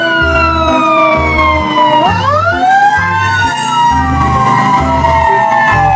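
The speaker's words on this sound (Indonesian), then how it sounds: "Yang ini ada mobil pemadam kebakaran." A toy fire engine wails with a loud rising and falling electronic siren over a steady, pulsing low beat, with no talking.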